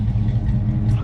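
A Chevelle fitted with new single chamber dual exhausts, replacing glasspacks, gives a steady, deep, throaty rumble with small revs that swell only slightly, close and fairly loud throughout.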